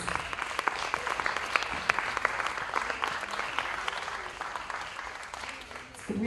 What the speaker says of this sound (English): Ladies and gentlemen, a huge round of applause